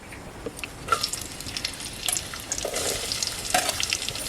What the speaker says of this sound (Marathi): हा बघा गोडा मसाला अशी फोडणी द्यायची आहे